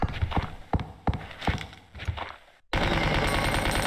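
A submachine gun fires in Resident Evil 2 in sharp, uneven bursts of close shots, then a brief pause, then a dense, continuous rattle.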